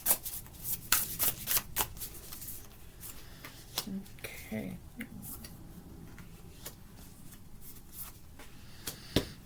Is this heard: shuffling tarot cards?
yes